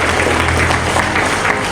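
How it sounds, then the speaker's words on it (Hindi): Loud, sustained applause from an audience at an awards ceremony for party workers, dense continuous clapping filling the room without pause. "जोरदार ताली।"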